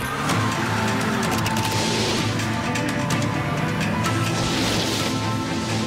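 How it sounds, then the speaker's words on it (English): A Cadillac CTS-V Coupe with a 556 horsepower supercharged engine roars continuously, loud and close, with a fluttering, revving texture throughout. "Could that have also inspired its 556 horsepower supercharged engine?"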